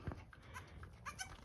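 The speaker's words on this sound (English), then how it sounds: "Baby goats." Baby goats in a barn bleat faintly in short, scattered calls, quiet and close, with no talking.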